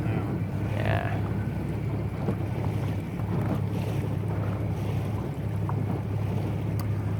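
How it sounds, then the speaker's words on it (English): Steady wind rushing across open water during a Toronto sailboat race, buffeting the microphone with a constant low roar and faint splashing beneath. "You can see quite a bit of wind has filled in."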